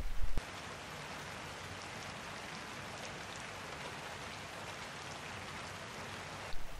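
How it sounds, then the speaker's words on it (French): Steady rain falling on a forest path lined with trees, a dense even hiss of drops lasting throughout, with brief louder bursts at the very start and end. "Le son de la pluie ne te dérange en point non plus."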